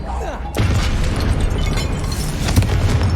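A Confringo fire-blast spell in Hogwarts Legacy, a sudden booming burst that then rolls on as a loud sustained rumble with crackle, a second flare near the end, alone without talk.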